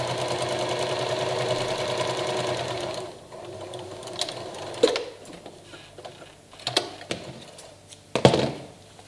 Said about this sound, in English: So we sew straight up here.